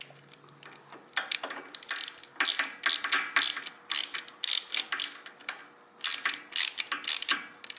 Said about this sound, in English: now to tighten that down, you're going to use a 13mm wrench. So you're going to tighten these up